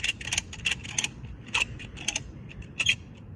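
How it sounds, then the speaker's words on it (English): A ratchet strap cranks a slackline tight in a series of short, close clicking and creaking bursts, irregular in spacing, over quiet outdoor background. "start using the ratchet to really tighten it down"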